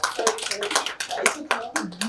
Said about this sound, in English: Let's clap for Margaret.